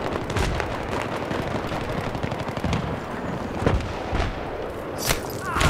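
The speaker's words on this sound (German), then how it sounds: "Da steht ein Panzer, schießt zwischen C und D." Gunfire and tank cannon shots in a Battlefield 3 match, a dense rapid rattle of shots with a few heavier booms, loud and continuous throughout.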